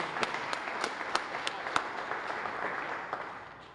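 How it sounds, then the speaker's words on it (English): Audience applause at an electric aircraft charger commissioning ceremony at an airport, a modest crowd clapping with distinct individual claps standing out, steady then tapering off toward the end, heard alone without talk. "Let's applaud all those who dare to dream."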